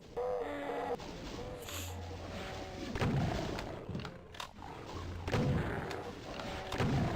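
Rockets launch and explode repeatedly in a DOOM 2 level, a dense run of booming thuds and crackling detonations layered over continuous background game noise.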